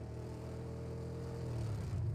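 A car engine in the PUBG video game drones steadily at low pitch, a faint continuous rumble that swells slightly toward the end, with no talking.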